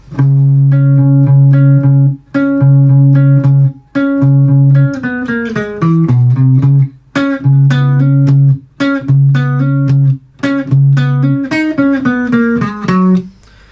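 A clean, loud electric guitar plays a repeating riff, held notes broken by short gaps and quick bending runs.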